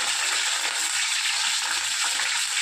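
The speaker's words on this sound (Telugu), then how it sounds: "నూనె వేసి పచ్చిమిరపకాయలు, కరివేపాకు వేసి బాగా వేయించాలి" Green chilies and curry leaves fry in hot oil in a pan, giving a steady, close, bright sizzle that holds evenly the whole time with no voices over it.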